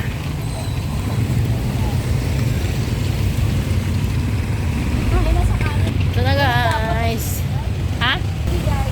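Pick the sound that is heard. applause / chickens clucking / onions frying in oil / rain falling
rain falling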